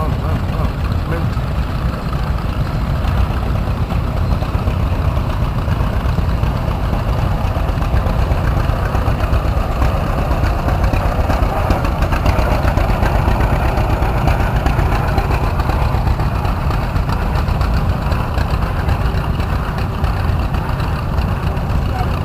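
A 1939 John Deere Model B tractor idles at a hometown show, its engine rumbling steadily and continuously at close range with a faint wash of crowd noise behind it.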